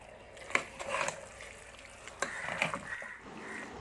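Beef curry with chopped coriander and mint is stirred in a pan, a close, soft scraping and sizzling with a few sharper clinks of the spoon against the metal.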